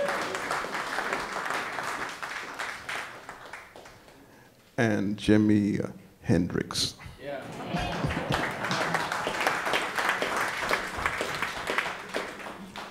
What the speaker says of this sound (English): Yeah, you can clap for the Headhunters.